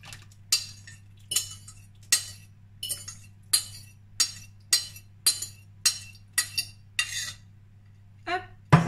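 Butter-egg mixture being stirred into flour in a mixing bowl for cookie dough, heard as a steady series of sharp utensil clinks and scrapes against the bowl, roughly two per second, close and alone over a low steady hum.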